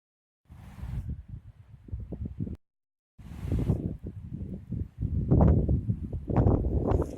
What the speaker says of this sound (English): It's very windy out, so we'll see what the audio does with this wind.